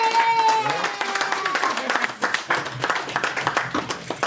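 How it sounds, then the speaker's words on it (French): Audience applause for a new president at an end-of-year celebration, scattered clapping rising after a voice that fades out, moderately loud with crowd murmur. "je vous demande d'applaudir pour le nouveau président"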